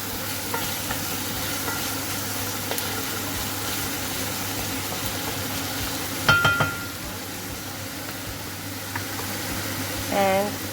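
Onions sizzling in a pan as they are stirred, with an extractor fan running: a steady, moderate frying hiss, a few utensil clanks near the middle and light scraping toward the end.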